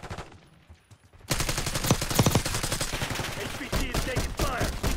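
Rapid gunfire bursts from Call of Duty Black Ops 6 multiplayer, loud and close, starting after a quiet opening and continuing in dense overlapping volleys with no talk.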